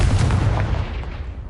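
Confringo fire spell blast in the Hogwarts Legacy video game, a heavy booming burst with a deep rumbling low end that decays over about a second and a half, loud and alone.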